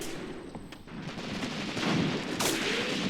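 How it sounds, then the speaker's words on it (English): Gunfire from an enemy soldier in the tactical war game Graviteam Tactics: Mius Front, a few muffled shots and bursts over a steady battlefield rumble, fairly distant and moderately loud. "Oh, he's firing, man."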